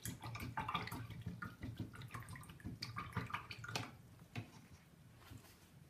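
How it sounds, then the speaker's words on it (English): A paintbrush swishes and splashes in a cup of water during a watercolor cactus painting, soft close dripping and sloshing sounds with no talking. "I'm gonna rinse this out."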